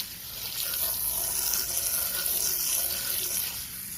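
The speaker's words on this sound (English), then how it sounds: "So we're just kind of rinsing it off with the garden hose because it's wet out anyways." Water from a garden hose rinses a lawn mower outdoors in wet weather, a steady close hiss of spray splashing on the deck with no talk.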